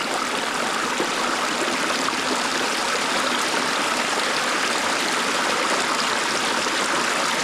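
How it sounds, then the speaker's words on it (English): A shallow creek in Fall Run Park, Pittsburgh, flows near a waterfall, making a steady, unbroken rush of water throughout with no voices. "the creek is pretty shallow, so you and your kids can walk the creek if you want to"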